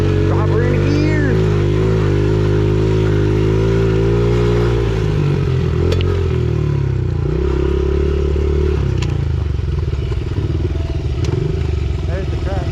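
A pit bike engine revving and pulling on a night ride up a hill climb at Apple Valley Speedway, a loud, close, continuous buzzing drone with shifting pitch, occasional clanks, and rider voices talking over it.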